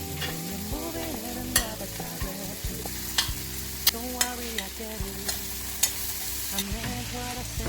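Coarsely chopped tomato and other vegetables stir-fry in hot oil for sautéed Chinese noodles, giving a continuous close sizzle punctuated by repeated scraping and clacking stirs in an irregular rhythm.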